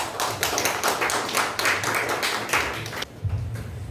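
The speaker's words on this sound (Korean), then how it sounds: "박수로 맞아주시고" Seminar audience in a cultural hall clapping to welcome a speaker to the front, a brisk, fairly close round of many hands for about three seconds that stops abruptly before a low voice begins.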